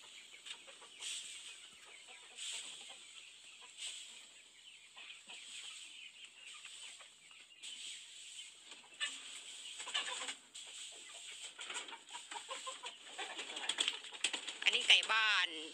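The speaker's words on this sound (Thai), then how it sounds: "อันนี้ไก่บ้าน" Domestic chickens clucking in a farm setting: a dense, steady chorus of soft clucks and short calls that grows busier and louder toward the end, heard without any talk over it.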